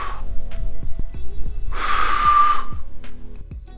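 Breathy attempted whistle from a beginner trying to whistle very loudly: a roughly one-second airy hiss with a faint thin whistling tone, set among soft breaths and mouth noises, close and not especially loud.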